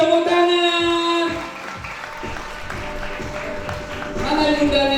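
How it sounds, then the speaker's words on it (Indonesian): Applause for Romy's mother at a 17th birthday party at Kenanga Garden in Medan, a steady crowd clapping mixed with music and voices throughout. "Tepuk tangan buat ibunya Romi."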